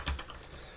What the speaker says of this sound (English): And I just type ls space and then the name of a path.